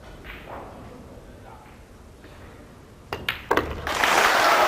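A pool hall crowd at the 2005 World Pool Championship breaks into applause after an upset win, starting with a few sharp claps and swelling into a broad, loud ovation as the match ends.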